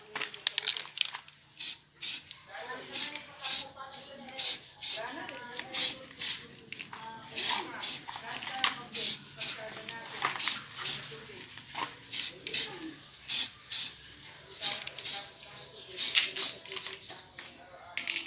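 Elastic dip rubber spray paint is sprayed onto a Ford Fiesta Mk7, producing a long series of sharp, close hissing bursts in an uneven rhythm, with a voice talking quietly underneath.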